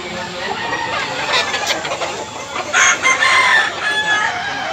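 Roosters crow and hens cluck at a Tabunok, Cebu market, with several calls rising over a busy background din while people talk.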